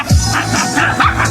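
A dog riding in a vehicle on a rural outing gives short yips and whines over a loud, rumbling cabin background.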